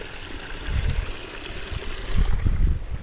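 A small engine runs on a farm during a pechay harvest, a low rumbling drone with uneven surges and wind buffeting the microphone, fairly loud and continuous with no talk over it.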